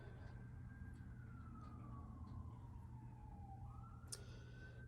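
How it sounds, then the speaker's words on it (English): A single siren wails faintly in the distance, its tone sliding slowly down then rising again, over a low steady background hum. "we're going to probably listen to lots of sirens today"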